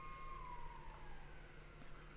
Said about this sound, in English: Siren goes for recess in the school next door.